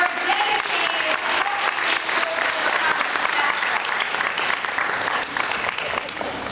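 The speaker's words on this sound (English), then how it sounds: "give yourselves a round of applause" An audience of convention attendees at a child-abuse conference in West Palm Beach gives a sustained round of applause, a dense, loud wash of many hands clapping continuously, with a few voices faintly mixed in.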